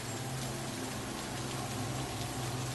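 Rain falls steadily at night, an even, close patter of drops on surfaces with no pauses and no voices.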